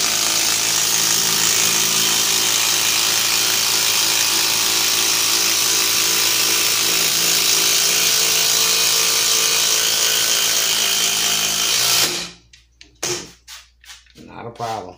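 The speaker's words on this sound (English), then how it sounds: "Let's see if the DeWalt Extreme could do it." A DeWalt Extreme 12-volt impact driver with a 3-amp-hour battery runs loud and continuous for about twelve seconds, then cuts off, leaving a few short bursts and knocks.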